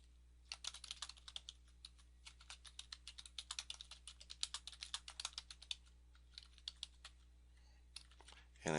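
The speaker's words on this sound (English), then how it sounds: "and then type in your email address, and then type in your site name," Computer keyboard typing, a quiet run of light, irregular key clicks at close range over a steady low hum, entering an email address and site name during a WordPress setup, with no talking.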